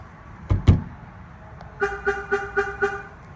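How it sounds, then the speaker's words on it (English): Chevrolet Tahoe alarm being tested: a couple of loud thumps, then a rapid series of five short, even horn chirps close by. "I've also been messing around with the alarm on the Tahoe, trying to fine tune it to where I like it."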